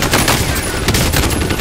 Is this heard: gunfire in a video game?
yes